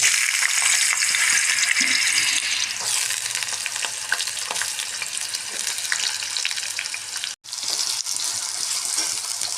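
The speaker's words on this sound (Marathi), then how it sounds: "ह्या सर्व भाज्या यामध्ये तळून घ्यायच्या आहेत" Peeled, cut potatoes frying in oil in a pan for mixed vegetable bhaji, a loud steady close sizzle with occasional stirring, briefly cut out near the end, no talk.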